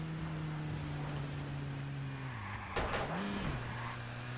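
A car is driven in the video game Watch Dogs, its engine a steady droning hum that dips and rises as it shifts. A brief burst of noise cuts in partway through, with no talking.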